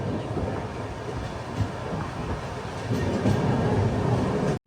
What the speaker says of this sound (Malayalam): ട്രെയിനിപ്പം 110 km/h സ്പീഡിൽ തന്നെയാണ് പോകുന്നത്.